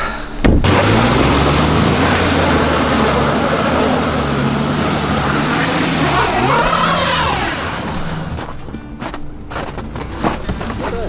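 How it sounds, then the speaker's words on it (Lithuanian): A car engine revs hard as the vehicle drives along a slippery, icy winter road, its pitch rising and falling in loud, continuous surges that fade slightly toward the end. "važiuojam čia mes ant prasisukimų"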